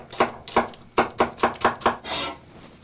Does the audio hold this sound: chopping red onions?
yes